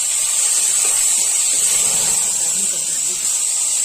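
Finely chopped tomatoes hiss and sizzle steadily in a pan of browned onions for a Chhattisgarh-style bhuji saag, a loud, continuous frying sound that stays close throughout.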